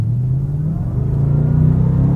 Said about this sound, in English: Let's see the acceleration.